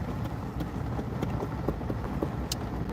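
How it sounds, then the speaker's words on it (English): An Amish horse-drawn buggy passes on a road, its hooves clip-clopping steadily over a constant rumble of wheels, with no voices present. "That was Amish horse and buggy"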